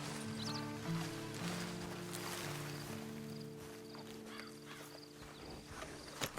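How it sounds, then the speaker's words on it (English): In Red Dead Redemption Online, steady clip-clop of horse hooves walking at an even pace, fairly soft, over a low ambient hum with faint tones. "And you better get on this horse."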